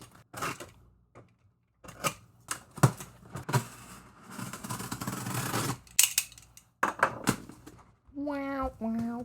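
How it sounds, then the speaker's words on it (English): Scissors or a blade cut into a comics shipping package marked fragile, with several short snipping and tearing bursts between pauses, and a person talking around the cuts. "First cut's going in."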